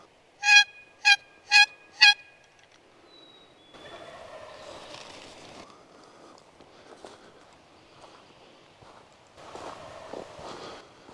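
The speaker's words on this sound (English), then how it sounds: "He's gobbling pretty heavy right now." Four loud, evenly spaced wild turkey gobbles ring out in quick succession across a creek in Ontario, followed by soft rustling and faint movement sounds outdoors.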